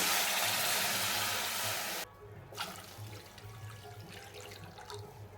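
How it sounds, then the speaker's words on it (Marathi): Water pours in a steady, close rush for about two seconds into a cooking pot, then cuts off, leaving faint drips and small clinks. "आता आपल्याला ओतायचं ह्याच्यामध्ये हे दोन ग्लास पाणी"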